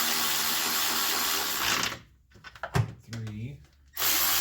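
A power tool or ratchet whirs loudly on the spark plugs of a Chevy Traverse for about two seconds, then stops, followed by a few short clicks and tool handling before the whirring resumes briefly at the end.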